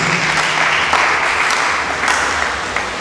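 A large audience at a ministers' conference in Accra, Ghana, applauds steadily, a dense continuous roar of clapping at even loudness throughout with no pauses.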